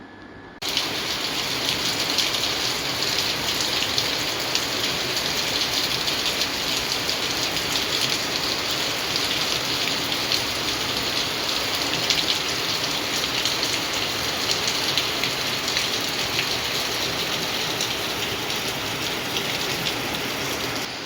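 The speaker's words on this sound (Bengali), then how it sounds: "বাইরে হচ্ছে তো মুষলধারে বৃষ্টি, পুরো সাদা হয়ে গেছে" Heavy rain pours down in a dense, constant roar of drops, loud and unbroken from start to finish.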